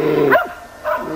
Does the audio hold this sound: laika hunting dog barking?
yes